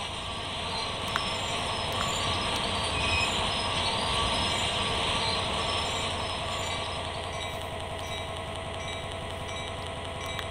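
A GP-38-2 diesel locomotive in the Train Sim World 2 video game rolls and slows, with steady rail rumble, rolling wheel noise and faint high wheel squeal running continuously without speech.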